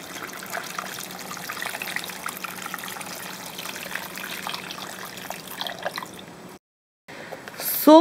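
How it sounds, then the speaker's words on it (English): Cold water poured into a pot over head cheese ingredients with garlic and half a lemon, a steady trickling stream running for several seconds before a brief pause and a short splash at the end. "Cover it with cold water."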